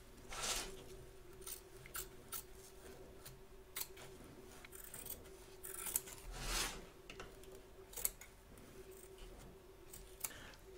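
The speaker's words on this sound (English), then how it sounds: "Trim away the excess batting from around the edge of the stitch line" Scissors trimming excess quilt batting around a stitch line, faint scattered snips and soft fabric rustles spread across the stretch, quiet and close with no talking.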